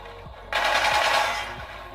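Sustained automatic gunfire from a weapon in Infinite Warfare, a dense loud burst starting about a quarter of the way in and fading toward the end, with no talk over it.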